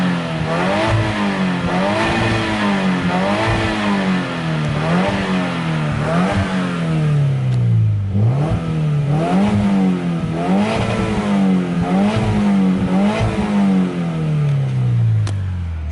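A 2016 Subaru WRX with a 6-speed transmission being revved repeatedly, its engine rising and falling in a steady cycle of loud, close revs with a rough mechanical clatter and no talk.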